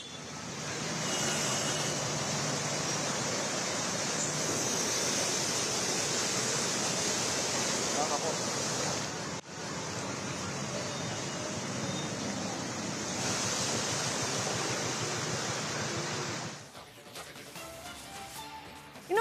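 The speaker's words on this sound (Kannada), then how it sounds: "ಮಳೆ ಸುರಿತಾನೆ ಇದೆ" Heavy monsoon rain and floodwater in Himachal Pradesh make a steady, dense hiss and rush, loud and continuous for most of the stretch before it briefly drops and fades near the end, with no talking.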